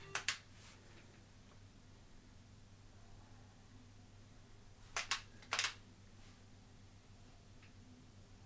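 A light gun fires in Operation Wolf on a Sega Master System, heard as a few crisp, faint snapping shots: a quick pair at the start and another cluster a few seconds later over quiet hiss.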